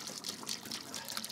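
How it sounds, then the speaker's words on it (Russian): Cooked rice is rinsed under cold running tap water, a soft, continuous splashing trickle heard close up and fairly quiet, with no talking. "Опять же, я промываю его чистой водой."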